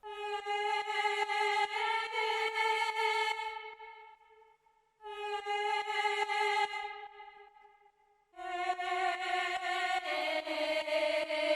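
A Quartet Legato choir preset sings sustained sampled vocal chords, pumped by a strong sidechain shaper set to a 70% mix. Three long swells each fade out and then return abruptly, with no speech.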